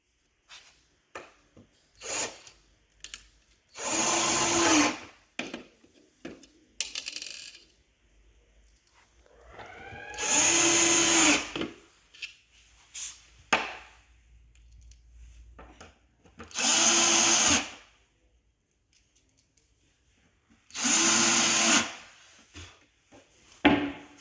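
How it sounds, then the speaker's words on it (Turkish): Power tool work while mounting a door on a wooden bookcase during assembly, with several loud bursts of a few seconds each, separated by quiet gaps and small knocks and rubbing sounds. "Şimdi kapağımızı monte edeceğiz."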